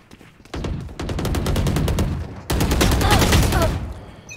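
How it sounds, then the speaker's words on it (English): Rapid automatic gunfire in a shooter video game practice range comes in two long, loud bursts of evenly spaced shots separated by a short pause, with no talk. "You need to stop shooting if you're not on their head."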